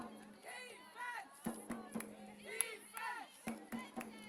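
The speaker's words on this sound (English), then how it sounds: "Now the Belgian crowd trying to get animated." Belgian spectators at a women's U17 basketball game between Belgium and Germany, a crowd murmuring and calling out at moderate distance, with sharp sneaker squeaks and a few thuds on the court between swells of noise.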